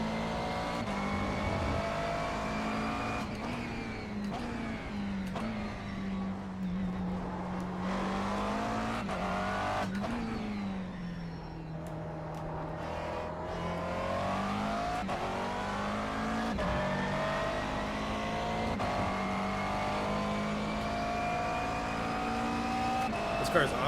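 A McLaren race car engine in iRacing at Silverstone drones and revs continuously at high pitch, shifting up and down through gears, with a voice talking over it.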